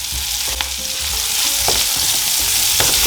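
Spring onions, chilli, ginger and garlic fry hard in a hot pan beside sea bass fillets, a dense, continuous sizzle broken by a few sharp stirring scrapes, with no speech.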